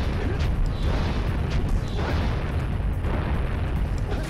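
Boulders fired by the lava monster Klaww in the Jak and Daxter game crash and rumble in a dense, continuous barrage of booms and bursts, loud and close, with several sharper impacts standing out in the steady roar.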